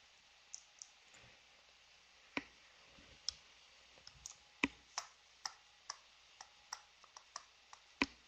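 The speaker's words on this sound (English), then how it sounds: "somebody's typing." Someone typing on a computer keyboard during a virtual precalculus lesson, sparse irregular clicks in a quiet room, faint and slightly distant with no talk.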